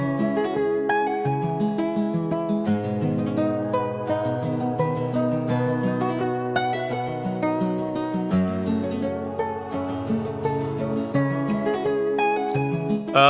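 Chopped vocal samples layered with a guitar counter melody in a beat made in FL Studio, playing as a continuous dense loop with steady chord changes, full and even in level, no speech.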